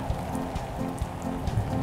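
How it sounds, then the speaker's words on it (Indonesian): Acid rain falling in the Roblox game Natural Disaster Survival, a steady, dense patter of raindrops on surfaces, continuous and fairly loud, with no voices over it. "Nah, itu hujan asemnya."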